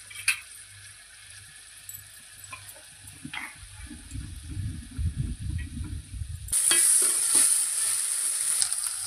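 Prawns tossed into a pan for a chikudukaya (broad bean) prawn curry, with soft stirring and clatter followed by a sudden, steady, loud sizzle of frying that carries on to the end.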